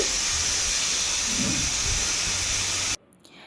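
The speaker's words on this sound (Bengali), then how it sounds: "প্রেশার কুকারে বসিয়ে দিয়েছি তো এখন সিটি উঠছে" A pressure cooker cooking mutton and potatoes vents steam in a loud continuous hiss for about three seconds, then cuts off abruptly.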